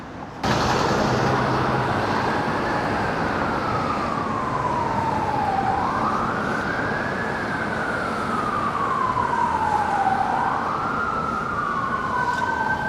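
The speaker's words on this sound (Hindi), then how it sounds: "डाउनटाउन में हर वक्त सायरन बजते रहते हैं क्योंकि यहाँ पे काफ़ी सारी इमरजेंसीज होती रहती हैं" Emergency vehicle siren wails through downtown Toronto on a cold winter street, a loud rising and falling tone sweeping slowly in long cycles over steady traffic rumble, with no talk.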